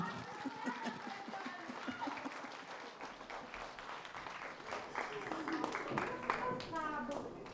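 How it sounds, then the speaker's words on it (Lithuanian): Applause for a performer at a tenth-anniversary jubilee concert in Daukšaičiai: a steady crowd of clapping hands runs throughout, with a voice talking over it. "Plojimai Vilijai."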